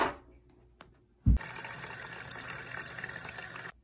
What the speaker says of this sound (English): I gotta add water in my essential oil diffuser.